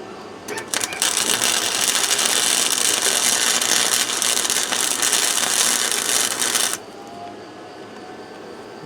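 A welding helmet's ratchet headband being tightened during work on a 1979 Chevy K20 truck: a loud, continuous rapid clicking and grinding that runs for roughly six seconds, then stops abruptly, leaving quieter background.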